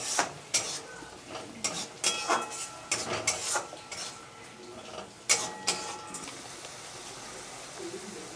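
Spices and oil for a chicken and potato curry being stirred and scraped in a pot, with a spatula knocking against the metal in irregular clattering bursts over a faint sizzle, close by with no talk.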